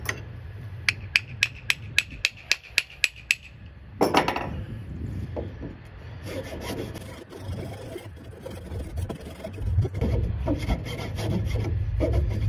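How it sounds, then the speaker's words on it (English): A round rasp filing wood while reaming out a hole, close scraping strokes with irregular rhythm after a run of sharp regular taps at the start. "the round rasp is not cutting the job"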